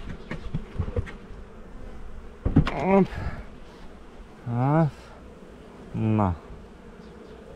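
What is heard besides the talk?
robber honeybees flying out of an opened hive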